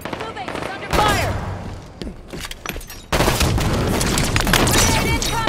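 Gunfire and booming explosions erupt in a Halo 5: Guardians battle. Sporadic shots and blasts come first, then a sudden surge of continuous loud fire and explosions, with voices calling out beneath the noise.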